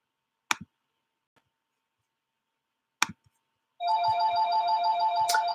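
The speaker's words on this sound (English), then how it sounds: "And there's the phone." A telephone rings indoors, a steady warbling electronic ring starting after a few faint clicks and taps, fairly close and clear with no talking.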